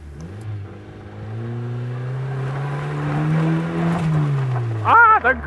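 Fiat Panda 4x4 engines rev and drone on a churned-up turning circle, a steady rising mid-pitched whine held for several seconds with voices over it and a brief shout near the end.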